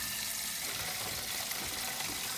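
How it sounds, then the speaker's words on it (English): Water runs steadily from a tap into a large canning pot, a constant even rush with no talk. "And then I just fill it with water."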